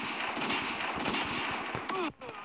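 Pistol shots in a mobile shooting game with a mask gun mode, a quick run of sharp cracks close together, then a sudden drop near the end under a talking voice.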